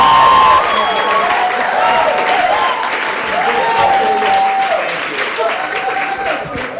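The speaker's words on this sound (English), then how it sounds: "you guys are giving me all this applause" Comedy club crowd at Gotham Comedy Club applauding a standup comic, loud sustained clapping with some cheering and voices mixed in, fading slightly toward the end.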